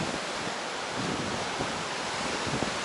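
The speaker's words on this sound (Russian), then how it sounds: "Вон какое сегодня море. Посмотрите, бушующее прям. Ветер такой сильный." Rough stormy sea surf and strong wind roar continuously on the coast at Svetlogorsk, a dense wash of crashing water and gusts buffeting close by with no voices.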